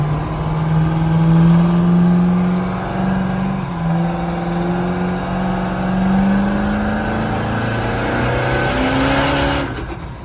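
A truck engine revs hard and steadily building about five pounds of boost, loud and close with a rising and falling drone throughout and no talk.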